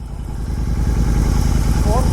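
A tuned Royal Enfield GT 650 motorcycle engine runs steadily and loudly close by with a low, throbbing exhaust rumble throughout, with voices talking over it.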